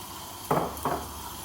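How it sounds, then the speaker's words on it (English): Dhokras sizzle in a hot pan with a steady hiss, broken by two short, louder crackling bursts. "Still sizzling"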